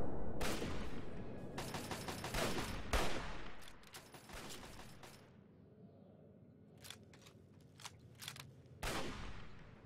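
Turret gunfire in a video game: rapid bursts of shots crackle in clusters, with loud sharp volleys early on, scattered quick pops later and a final burst near the end.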